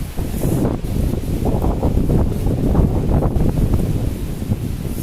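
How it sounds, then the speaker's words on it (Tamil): Strong wind gusting on a rainy road in Mayiladuthurai, a loud continuous roar with turbulent buffeting on the microphone and a rushing, surging texture throughout. "சரியா காற்று போயிட்டு இருக்கு"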